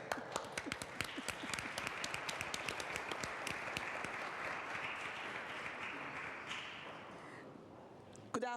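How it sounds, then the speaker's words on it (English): Another round of audience applause at a formal assembly, moderately distant and steady, with crisp individual claps standing out in the wash before it tapers off near the end. "Another round of applause, please."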